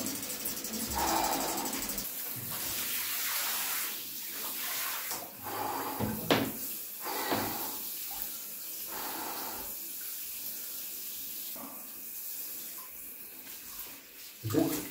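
Water sloshes and splashes in a bathtub of cold water as someone lowers into it and settles. The movements come in soft, irregular bursts close by, with brief pauses and no talking.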